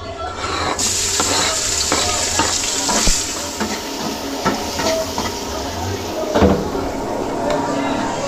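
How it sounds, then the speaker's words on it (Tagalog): Garlic, onion and ginger sauté in a hot pan, giving a loud, close sizzle with repeated stirring clatters and scrapes throughout. Metal knocks sound now and then, and no one speaks over the frying. "Igisa na natin tong bawang, sibuyas, luya mga kadagi."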